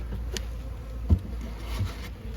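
Honey bees buzz around an open spring hive with a steady low drone and a few louder bees passing close by, heard outdoors without talk.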